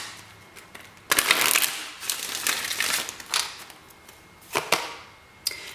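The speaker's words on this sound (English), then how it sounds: "One more shuffle, pile number 2." Oracle cards being shuffled by hand in a quiet room, with soft riffling bursts and sharp slaps of the deck coming in irregular clusters, alone and moderately close.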